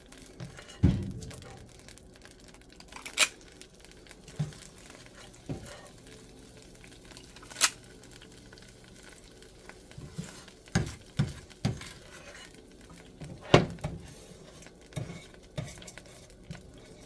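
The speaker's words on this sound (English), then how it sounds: "we're going to fry up our zucchini" Zucchini pancake mix fries in a hot pan with a faint, soft sizzle, broken by scattered knocks and scrapes of a utensil against the pan, close and quiet with no talk.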